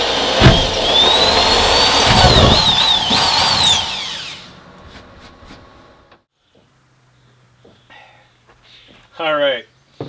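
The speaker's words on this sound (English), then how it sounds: "let's get that hole drilled in there and get the hole saw hooked up" A loud power drill with a hole saw grinds steadily for about four seconds, then cuts out, leaving faint rattling and a brief whirring burst near the end.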